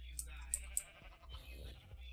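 A goat in a modded Minecraft-style video game bleats faintly in a few short wavering cries over a low hum, with quiet talk around it.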